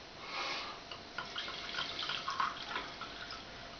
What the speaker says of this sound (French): On met du muscadet sur l'ail.